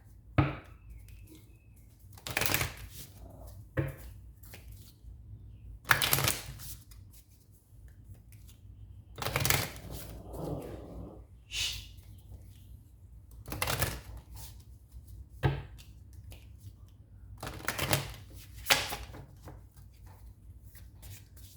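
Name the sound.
shuffling and pulling Alice in Wonderland oracle cards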